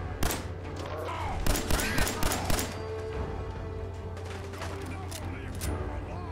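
Rapid gunfire in Fallout 4, sharp bursts of shots clustered early then scattered later, loud and close against a steady humming background, with a voice talking in between.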